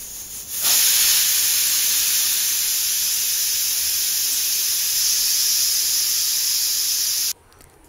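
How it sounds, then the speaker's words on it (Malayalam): A pressure cooker on high flame lets off its whistle in a loud, continuous jet of steam, a shrill tone riding over a broad hiss for several seconds before it cuts off abruptly. "ഇപ്പോൾ കുക്കർ വിസിൽ വന്നിട്ട് ഞാൻ ഫ്ലെയിം ഓഫാക്കിയിട്ടുണ്ട്."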